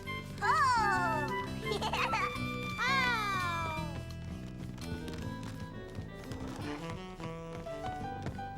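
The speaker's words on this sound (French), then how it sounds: "Bravo, tu es un bon chat de traîneau, Gilbert." A cartoon cat in a French children's animated show gives a few drawn-out, sweeping meows near the start, amid background music and a voice.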